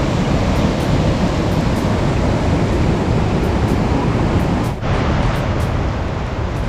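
Seetharkund waterfall near Kollengode in Palakkad, in the Nelliyampathy hills, roaring as a steady, loud, unbroken rush of falling water that fills the whole scene with no voices.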